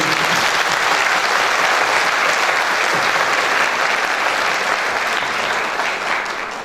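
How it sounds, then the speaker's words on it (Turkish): Seminar audience at a family and child education event giving loud, sustained applause, a dense continuous roar of clapping that stays even throughout and eases only slightly at the end. "Lütfen bir alkış rica ediyorum."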